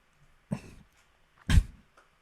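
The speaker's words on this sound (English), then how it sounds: "that was me trying to hold in a cough and it didn't work too well" Two muffled coughs about a second apart, the second heavier, as if someone is trying to hold them back; otherwise quiet.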